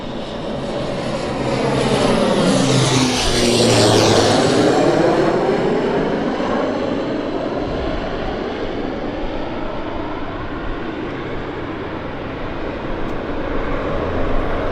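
A jet airliner inbound from Kelowna arrives at Vancouver airport, its engine roar swelling and sweeping in pitch as it passes close, then holding as a steady loud drone, with no talk.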